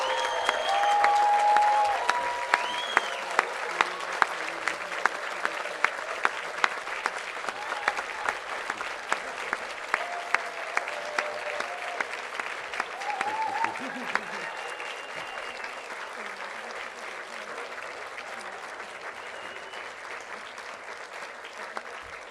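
Graduating divinity students at a diploma awarding ceremony stand and applaud their families and friends, a broad sustained wave of crowd clapping that swells early and then holds steady under a faint voice.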